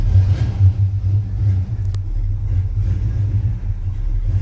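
A Chevy/GMC squarebody pickup's engine, idling after being cranked, gives a loud, close, steady low rumble with slight lopey pulses and minor fluctuations.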